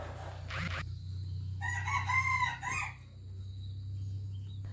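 A Sumatran red junglefowl rooster crows once, a clear close call over a steady low hum, with a brief squawk just before it.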